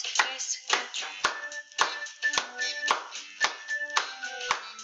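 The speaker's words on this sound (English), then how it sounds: "You can all clap along with me." Hands clap in an even beat along with a bright, cheerful children's Spanish song during a classroom sing-along. The crisp claps sit clearly on top of the music.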